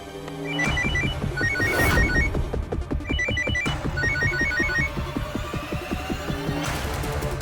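A telephone rings in repeated trilling bursts over a thick layer of dramatic background music, the ringing fairly clear but partly blended into the score.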